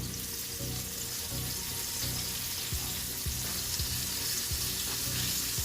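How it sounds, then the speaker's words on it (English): Steady crackling sizzle of chicken frying in hot oil, bright and continuous with occasional soft pops and stirring sounds, no voices. "And then you're just frying your chicken."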